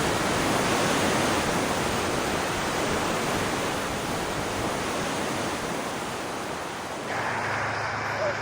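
Kilt Rock waterfall on Skye, fed from Loch Mealt, plunges 55 metres to the sea, heard as a steady, broad roar of falling water, with wind buffeting near the end.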